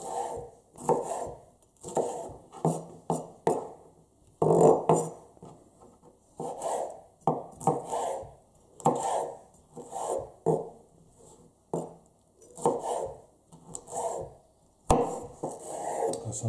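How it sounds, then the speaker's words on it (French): Bell peppers being chopped into small pieces for ratatouille, knife striking a board in irregular bursts of quick strokes with short pauses between, close and clear with no talking. "il faut découper les légumes en petits morceaux"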